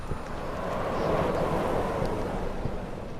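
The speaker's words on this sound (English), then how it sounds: "Windy, windy, windy." Steady, whooshing wind blows without pause in the video game Amnesia, a broad breathy rush that swells slightly in the middle, with no voices.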